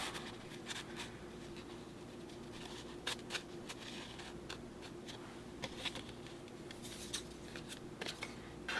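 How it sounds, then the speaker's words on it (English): Scissors snipping paper during a card-making craft session, a series of quiet, short crisp cuts scattered over a soft background hiss. "just cut this off like that and save that piece for something else"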